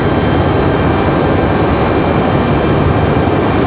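A Breeze Airways Airbus A220 airliner climbing out from Raleigh-Durham International, heard as a steady, loud broadband engine roar that holds evenly throughout with no talking.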